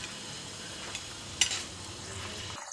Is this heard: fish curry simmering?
yes